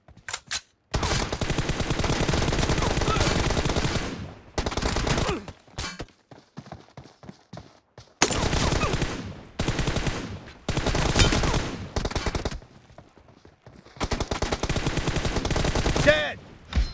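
Rapid automatic M416 rifle fire in a one-on-one team deathmatch video game, long sustained bursts separated by short pauses, loud and close, with occasional single shots between the volleys.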